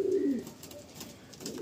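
A Madrasi pigeon lets out a short, low coo nearby, followed by quieter murmuring coos, brief and fairly soft, with no talk.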